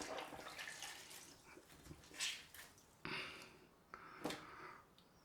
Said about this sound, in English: Just dunk that in the water.